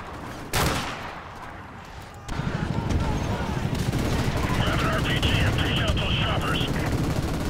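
Rapid bursts of automatic gunfire ring out in Call of Duty: Modern Warfare Remastered, loud and sustained after an opening single blast, with someone talking over the shooting.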